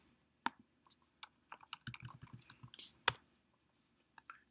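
Fingers typing ipconfig on a computer keyboard: a short run of sharp, close key clicks, sparse then quicker in a burst, with a louder tap near the end, quiet room, no talking.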